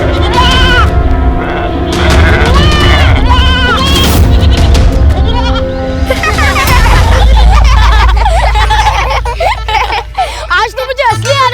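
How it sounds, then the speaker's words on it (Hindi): Goats bleat loudly in a cluster of overlapping, wavering calls, with people talking and general commotion mixed in, the bleating heaviest at the start and thinning toward the end. "जाओ बकरियों, उजाड़ दो बाजी का खेत।"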